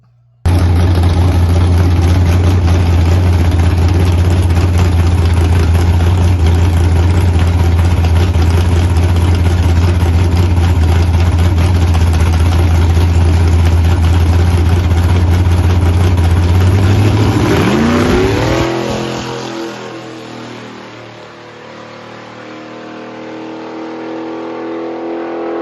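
A drag race car idles loud and steady at the start line with a low, droning engine, then launches about seventeen seconds in with a rising, revving roar that fades as the car pulls away.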